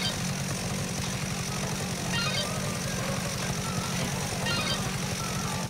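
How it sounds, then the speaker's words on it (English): Chainsaw engine in the Dead Rising video game, held by the player, gives a steady, droning mechanical hum with a rapid buzzing pulse, loud and continuous throughout, with no talk over it. "This engine humming is what you'll hear, drowning out the mall music even more."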